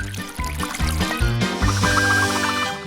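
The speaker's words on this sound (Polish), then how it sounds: "Teraz zaleję to wszystko gorącą wodą." Hot water poured over food in a kitchen, a close, fairly loud trickling stream set under a bright backing melody, running steadily throughout.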